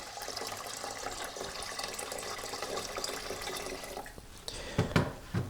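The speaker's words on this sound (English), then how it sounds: "Add a water in first. Add 2 liters of water." Two liters of water poured into a steam distiller for making witch hazel hydrosol, a soft, steady splashing flow at low level, ending with a few louder sloshes and clunks.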